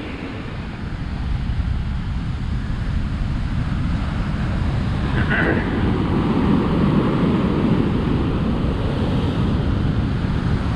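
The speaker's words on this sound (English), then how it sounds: "The tide is still coming up. It's coming over the sand." Ocean waves wash over beach sand in a continuous loud roar of surf, blended with gusting wind buffeting the microphone throughout, and no voices.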